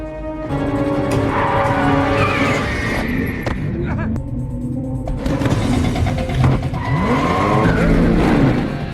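A red car escapes in a movie chase from Hitman: Agent 47, its tires skidding and squealing loudly as the engine revs, with dialogue and tense music running underneath.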